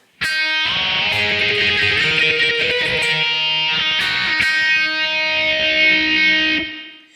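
A distorted electric guitar riff, loud and close, with sustained gritty notes changing pitch over several seconds before fading out.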